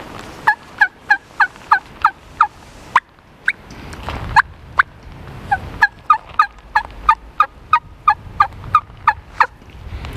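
A turkey call imitates a soft hen walking yelp in a series of short, evenly spaced yelps, close and clear, with one short pause midway.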